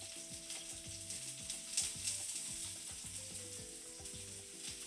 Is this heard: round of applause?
no